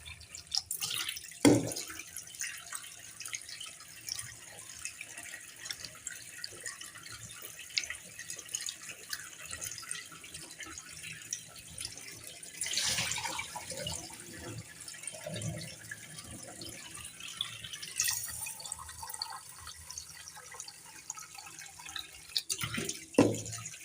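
Rice being washed three to four times in water, heard as faint dripping, trickling and soft splashing with a few louder clinks and sloshes in a quiet kitchen.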